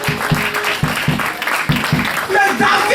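A church congregation claps and cheers during a lively French-language gospel service, with rhythmic hand claps in a steady beat under a loud preacher's voice.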